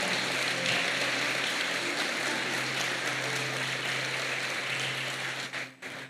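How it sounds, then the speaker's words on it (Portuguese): A church congregation applauds loudly at a Pentecost service, a dense, sustained roar of clapping that thins into a few separate claps at the end. "Pode aplaudir bem forte."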